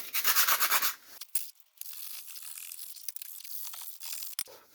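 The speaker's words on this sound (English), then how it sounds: "I probably should clean the back of this off with a bit of emery cloth" Emery cloth rubs a surface-rusted rear scuttle panel from a Ford Escort MK1 in quick, close, rhythmic scrubbing strokes, then stops, followed by quieter handling noise and a final short scrape.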